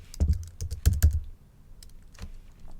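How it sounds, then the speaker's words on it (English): Keys clatter on a computer keyboard in short bursts of close, crisp taps, a quick cluster early on, then a pause and a few more scattered strokes. "So you can start typing here"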